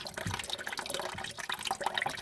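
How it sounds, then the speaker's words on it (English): Water dripping and trickling from a kitchen mixer tap as the pipe drains, a faint irregular run of small splashes and drops close by. "So once it stops dripping at the tap, it's still going to have a bit in the pipe itself."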